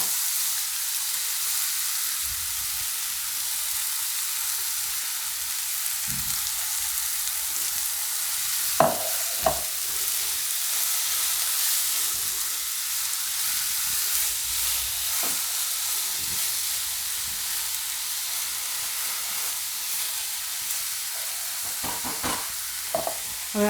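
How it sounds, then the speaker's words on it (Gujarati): Pieces of chili pepper sizzle and fry steadily in hot oil in a pan while being stirred, with a continuous hiss and occasional scraping clinks from the spoon, and no talking. "તો બીજા 2-3 મરચાં હતા, એને આપણે ટુકડા કરીને આમાં નાખી દીધા છે."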